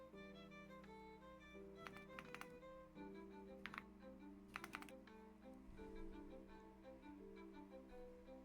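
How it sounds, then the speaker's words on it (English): Steady typing on a computer keyboard during a co-working session, quiet close key clicks in irregular bursts with occasional louder strikes over a soft background hum. "Keyboard ASMR."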